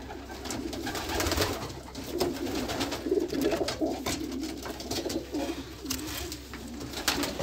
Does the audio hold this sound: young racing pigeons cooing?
yes